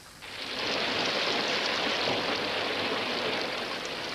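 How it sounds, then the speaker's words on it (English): Steady rain pours down without letup, a dense, even hiss that swells in over the first half second and then holds loud and constant, with no voices heard. "Then it started to rain."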